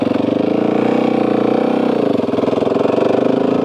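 A Husqvarna supermoto motorcycle holds third gear while riding, its single engine a steady, loud, throbbing drone with a slight dip in pitch midway. No voices are heard.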